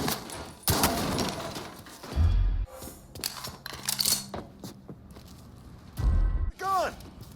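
Gunfire in Mafia III: loud, sharp shots and short bursts scattered irregularly amid clanks, thuds and footsteps, with deep booming impacts; a voice speaks between the shots.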